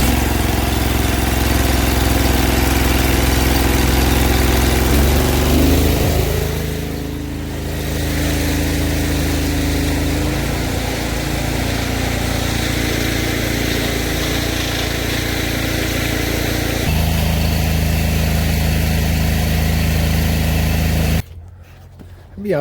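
A Gorlitz sewer jetter engine runs loud and steady at a constant drone for over twenty seconds, with a slight shift in pitch partway through before cutting off at the end.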